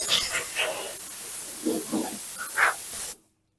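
Compressed air blows off a VW Beetle body panel before priming, a close hissing rush in several short bursts over about three seconds that then stops.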